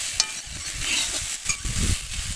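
Vegetable bhaji with potato and radish sizzles in a pan while a spatula stirs and scrapes it. The stirring strokes come in an irregular rhythm, close and steady over the frying hiss, with no voices.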